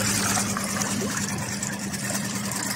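A Suzuki DF6 four-stroke outboard engine idles in gear during running-in, giving a steady, close, even drone mixed with churning water and no speech.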